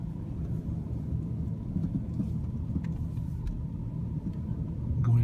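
A car circles a roundabout, its engine a low, steady rumble heard from inside the cabin, fairly quiet and constant with no talk.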